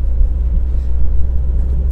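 A Daewoo car engine held at about 1500 rpm in fifth gear gives a steady, low rumbling drone that stays even throughout, heard from inside the car with no talking.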